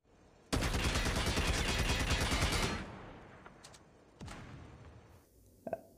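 Sustained automatic assault rifle fire from Call of Duty, a loud rapid burst lasting about two seconds, then a few sharp single shots and faint clicks in a quieter tail.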